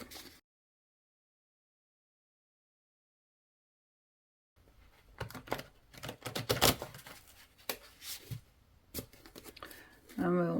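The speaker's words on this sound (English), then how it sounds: "give them a shuffle" Oracle cards shuffled by hand after a silent pause, giving a run of crisp riffling, slapping and papery rustles at close range, with brief murmured talk mixed in.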